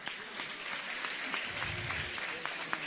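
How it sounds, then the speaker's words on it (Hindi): A crowd at a Jain community religious gathering in Sagar applauds, a steady, moderately soft patter of clapping heard throughout the short stretch without a clear start or end. "तालियां बजाइएगा"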